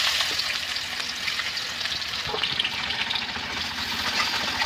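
Chopped vegetables dropped into hot oil, giving a loud, dense, continuous sizzle that fills the whole stretch, close up and without speech.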